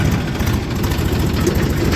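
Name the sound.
Massey tractor engine idling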